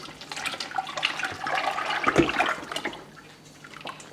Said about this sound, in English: Then we're going to pour our oil, our melted oil, in the solution.